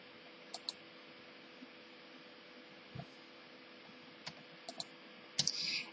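Computer mouse clicks while working in Silhouette Studio, a handful of sharp, quiet clicks spaced irregularly over low background hiss, with a short brighter burst near the end.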